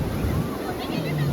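Sea waves washing in at a Konkan beach, a steady broadband wash with wind noise on the microphone, and a voice talking faintly underneath.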